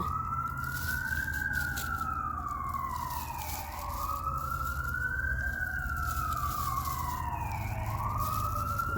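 An emergency siren wails in long rising and falling sweeps, steady and fairly distant, with low traffic rumble beneath and no talking.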